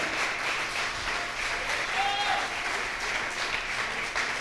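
A church congregation applauding during a Spanish-language sermon, a dense, continuous roar of many hands clapping at full strength, with faint voices mixed in.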